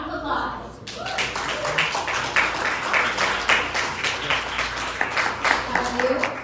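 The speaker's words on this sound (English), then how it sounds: "Round of applause." An audience breaks into applause that starts suddenly and carries on as dense, steady clapping, with talk faintly beneath it.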